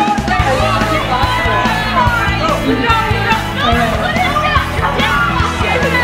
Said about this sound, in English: Alright, everybody else has a cheer.